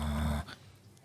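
A dog gives a short, loud, low growl that stops abruptly, followed by faint quiet shuffling.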